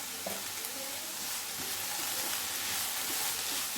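Egg bread stuffing cooking in a pan on a low flame gives off a steady, even sizzle with faint stirring beneath, unbroken and moderately close throughout.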